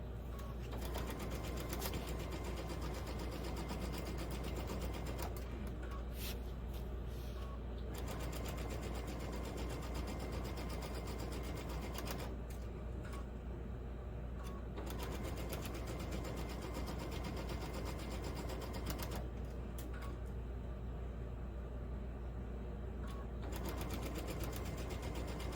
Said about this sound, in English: I'm sewing over my pins and you heard a cha-chunk. Guess what? My machine didn't break.